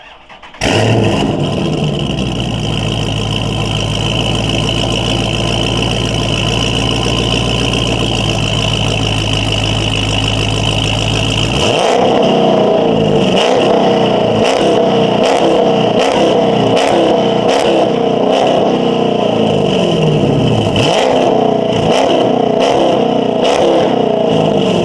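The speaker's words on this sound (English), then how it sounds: "do a rev here so you can get an idea of how this sounds with a little bit wide open throttle on it" Dodge Charger Scat Pack engine with an aftermarket catback exhaust, starting up into a loud steady idle, then a run of sharp wide-open-throttle revs that rise and fall repeatedly, close and alone.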